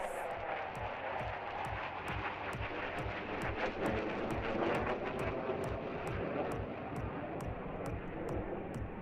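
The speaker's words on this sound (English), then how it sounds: "present to you the Light Combat Aircraft" A Tejas light combat aircraft in a flying display at Aero India 2021, a steady loud jet roar filling the whole stretch, with a regular pulsing flutter running through it.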